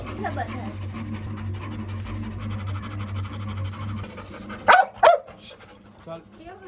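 A small puppy pants quickly and lets out a couple of sharp yips near the end, while people talk softly in the background.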